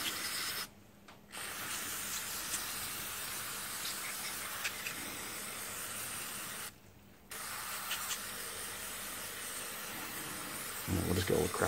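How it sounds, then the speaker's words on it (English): Aerosol spray cleaner hisses onto a Briggs & Stratton carburettor in a long steady blast, broken by two brief pauses, close to the microphone, ending with a rustle. "we'll give that one more spray"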